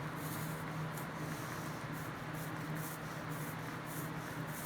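Steady soft brushing of a thin coat of West System 105 resin with 207 Special Clear hardener, a continuous close rubbing and swishing with faint rhythmic strokes and a low hum beneath, no talk.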